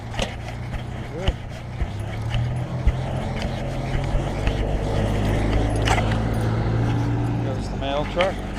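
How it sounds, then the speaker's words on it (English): A mail truck slowly passes a person walking a dog along a street, heard as a steady low engine hum under a busy outdoor mix of clinks, rustles and passing noises. "get the mail truck slowly overtaking us"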